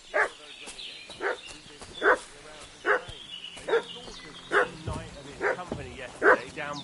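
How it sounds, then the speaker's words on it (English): A dog barks repeatedly in the video game Kingdom Come: Deliverance 2, eight or so sharp evenly spaced barks, fairly close, with a faint ambient hum underneath and no talk. "What's that dog making such a fuss about?"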